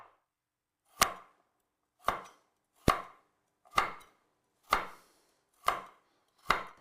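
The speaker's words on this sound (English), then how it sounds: "now I'm just going to cut the carrot crosswise so that the pieces are a bit uneven" A knife chops through a carrot crosswise on a cutting board, seven sharp, evenly spaced strikes about a second apart, close and clear with quiet gaps between.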